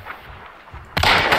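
A single sharp, loud gunshot lands close by in Hunt: Showdown, firing a headshot and cutting abruptly through quiet ambient game noise.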